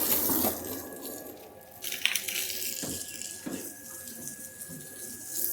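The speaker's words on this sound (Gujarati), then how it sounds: "પાણી થોડી ભરી દઈએ." Water runs steadily from a household tap to fill a container on a hot day, a continuous close gushing with a few light clinks and knocks mixed in, no voices.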